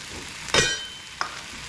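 Beans simmering in broth in a pan, heard as two short stirring and sizzling bursts over a low, steady background hiss.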